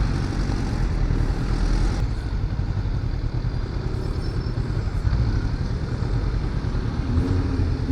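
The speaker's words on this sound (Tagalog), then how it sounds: "once na pinalitan mo to ng aftermarket exhaust, solid yung" A twin-cylinder motorcycle engine with an aftermarket exhaust runs close and loud, a continuous throaty rumble with a steady pulsing beat and small changes in revs, and no one speaking.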